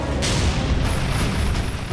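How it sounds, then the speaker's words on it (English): Tank main gun rounds exploding in battle give a dense, continuous low rumble of blasts with broadband bursts near the start, loud and unbroken, with a thin high whine running over the latter part. "We engage them with tank main gun rounds. You see the explosions going off."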